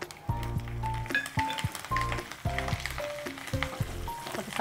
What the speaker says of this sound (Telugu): కరివేపాకు వేసేసుకోవాలి.